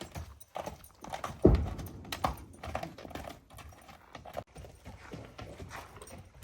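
Hooves of prized horses belonging to a Kyrgyz horse owner clop on the ground in uneven, fairly quiet beats with a sharper knock or two, set against faint ambient noise.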